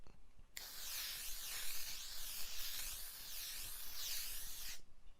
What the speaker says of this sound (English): This is the makeup setting spray.